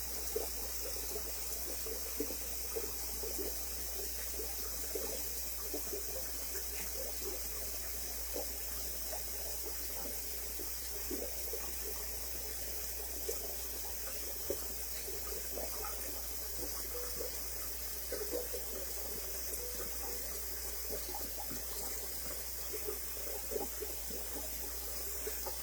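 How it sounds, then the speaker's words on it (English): Water runs from a tap into a bathroom sink being filled for handwashing a vintage wedding dress, a faint steady trickle with small splashes throughout. "I filled the sink a little more than halfway"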